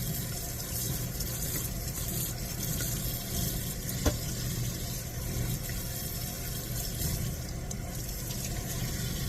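Tap water runs steadily while dishes are washed by hand in an RV kitchen sink, a continuous close splashing wash with one brief sharper clink partway through and no talk.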